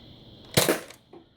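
A modified Nerf Spy Light foam blaster fires once up close with a sharp, loud snap and a short rattling tail, followed by a faint click.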